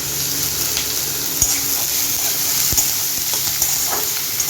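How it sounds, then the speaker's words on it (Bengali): Onions frying in a pan for a Bengali mutton curry give off a steady, close sizzle, broken by occasional clinks and scrapes of a spoon stirring. "এই যে পেঁয়াজগুলো দেখছেন লাল লাল মতন ভাজা হয়ে গেছে"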